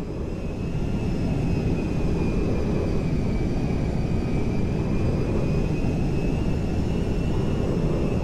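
A Merryweather cargo jet in GTA V roars steadily and loudly throughout, a dense, constant engine drone with faint high whine tones riding on top.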